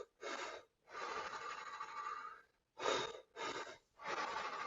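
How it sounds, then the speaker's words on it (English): A breathwork breathing pattern runs belly, chest, then exhale, heard as close, rasping breaths in strong bursts separated by short silences, with no talking. "So, the flow of the breath is belly, chest, exhale. It sounds something like this."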